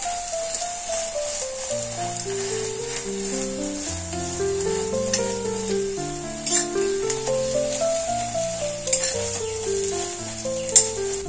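An egg omelette frying in a pan gives a steady, soft sizzling hiss beneath a louder melodic music track that runs throughout.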